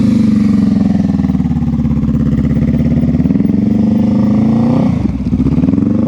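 A motorcycle rolls at slow speed through a skills practice course, its engine loud and close with a steady low throttle chug and a brief dip in revs near the end, no voices over it.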